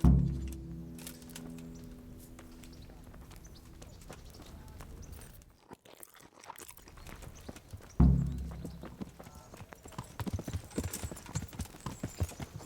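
Horse hooves clip-clop in a steady walking rhythm while riding in the medieval game Kingdom Come: Deliverance, starting after a heavy thud and resuming after a brief quiet gap, with faint birds in the background.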